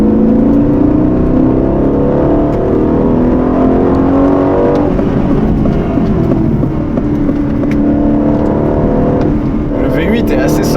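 An Aston Martin DB12's V8 pulls hard with a loud, continuous engine roar that climbs steadily in pitch from inside the car, while a person talks throughout.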